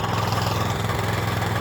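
A motorized grass mower used for hay cutting in the mountains drones steadily nearby, a loud continuous engine hum with a slight rhythmic throb and no talking.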